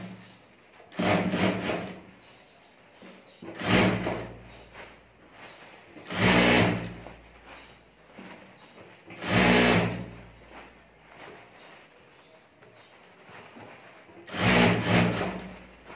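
A sewing machine stitches the top seam of a cloth potli bag in several separate runs, each a close, steady whirring burst of a second or two with quiet pauses between.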